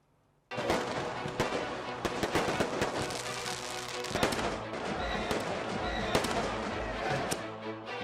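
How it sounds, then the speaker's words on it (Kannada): Diwali firecrackers burst in a dense, continuous barrage of sharp cracks and pops, some loud and close, others distant, crackling on for several seconds. "ಒಂದು ಕಡೆ ಪಟಾಕಿಗಳ ಸದ್ದಾದ್ರೆ"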